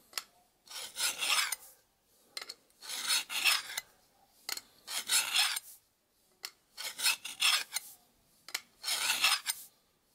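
A cheap knife is drawn repeatedly across the tungsten carbide sharpening slot of a Lansky Blade Medic, giving six or seven close, raspy scraping strokes in an even rhythm with short pauses between them, with no voices.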